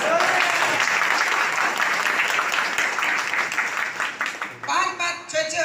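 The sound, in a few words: applause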